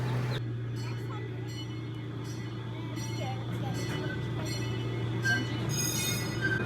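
An amusement park ride train at Holiday World rolls along with a steady low rumble and hum, while people talk over it.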